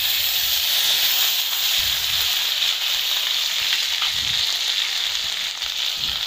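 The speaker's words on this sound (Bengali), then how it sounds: "এবার আমি পেঁয়াজ বাটা রসুন বাটা দিয়ে দেব।" Onion and garlic paste sizzling and frying in hot oil with toasted cumin for a spicy Bengali egg curry, a steady dense hiss throughout with no talking.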